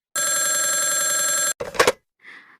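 An old telephone bell rings loudly in one continuous burst of about a second and a half, then stops, followed by a brief clatter as the receiver is handled and a faint muffled sound.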